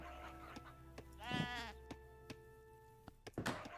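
Sheep bleat once, a clear wavering call in the Age of Empires 3 strategy game, set among scattered soft clicks and knocks from the game interface, with no talk.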